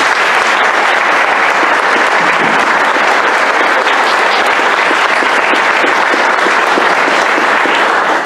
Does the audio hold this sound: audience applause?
yes